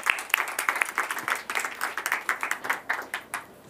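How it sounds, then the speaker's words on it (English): A conference audience claps in welcome as a speaker is called to the stage at an innovation event, with dense, close applause swelling in distinct bursts over a few seconds and no talk on top. "Big round of applause"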